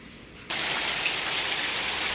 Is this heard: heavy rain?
yes